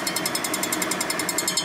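Machining tool cutting a 1948 Harley panhead cylinder head and striking a steel insert, a rapid steady chattering rattle with metallic high-end ticks, moderately loud and alone.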